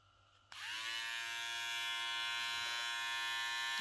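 A Kemei electric foil shaver switches on and runs with a steady, close, high-pitched buzzing hum that holds constant.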